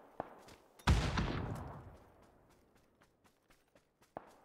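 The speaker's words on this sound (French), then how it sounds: "je vais lancer une grenade vers là-bas" A single loud grenade blast erupts close by in a battle royale shooter, its rumbling tail fading over a couple of seconds amid scattered faint footsteps and clicks.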